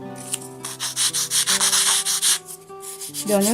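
Rapid back-and-forth rasping of sandpaper on wood, smoothing the edges of a miniature takeout box, in rhythmic strokes, close and loud, with no talking.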